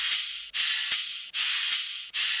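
A ride-like cymbal layer from a dubstep/riddim drop, loud sustained washy hits repeating about every half second, each decaying into the next, heard alone.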